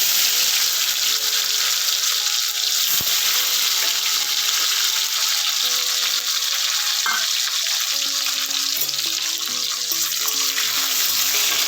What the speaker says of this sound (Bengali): একে একে এবারে গাজর, কড়াই এগুলো সব ভেজে নেব।